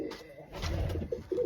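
A pair of doves in a breeding setup with eggs: soft, low cooing calls up close, a few rounded notes repeating over faint rustling, with a couple of brighter calls near the end.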